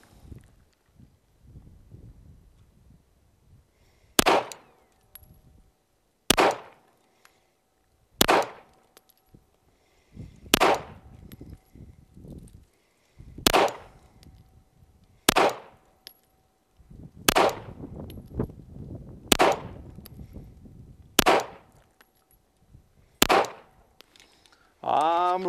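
A 9mm Colt Gold Cup Trophy pistol fires ten sharp single shots at an outdoor range, evenly spaced about two seconds apart and each ending in a short ring, with faint talk and movement between shots.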